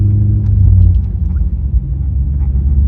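A manual car's engine shifting into second gear: a loud, close, low rumble that dips briefly midway, then resumes its steady drone, with no voices.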